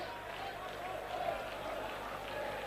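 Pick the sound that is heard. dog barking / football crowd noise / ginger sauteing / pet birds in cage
football crowd noise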